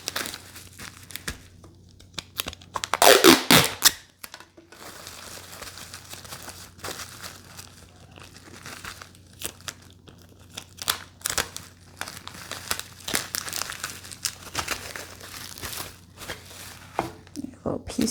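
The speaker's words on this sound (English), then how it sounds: "So we are going to tape this down just to make sure it does not come loose." Packing tape being pulled and torn to secure packing material around vintage home decor for an Etsy order, with a sharp crinkling rip near the start followed by softer rustling and handling noises, close up with little talk.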